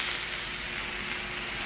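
Onions sizzle steadily in a pot as the base for a spicy chicken stew, giving a soft, continuous hiss at moderate volume with no voices.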